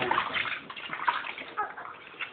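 Hot water sloshes and splashes steadily while a newborn baby is bathed, a continuous close wet swishing with small surges and no clear talk.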